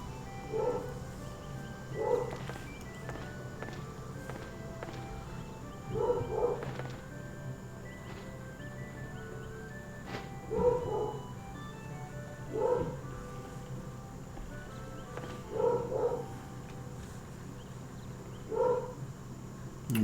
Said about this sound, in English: I'm sure y'all can hear my dog barking.